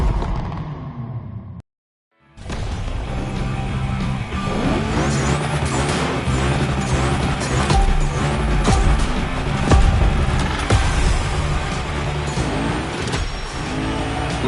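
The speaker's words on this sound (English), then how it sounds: "Lots of drivers out to burn rubber." Cars rev hard and burn rubber in the racing video game Motorfest: loud, dense engine roars and squealing tires run almost nonstop after a brief cut to silence near the start.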